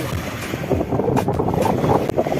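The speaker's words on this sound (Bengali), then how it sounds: "এই আওয়াজটা হচ্ছে নদীর ঢেউয়ের" Waves roll on a wide river near the Bangladesh border while strong wind blasts the microphone, making a steady, loud rush of water and wind noise that lasts throughout.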